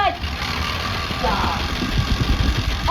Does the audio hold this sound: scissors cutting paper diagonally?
no